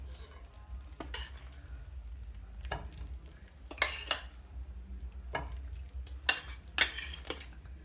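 Meatball and broad bean stew with dill is spooned out of a pot, giving sparse, faint scrapes and clinks of a utensil against metal with quiet gaps between them. No one talks.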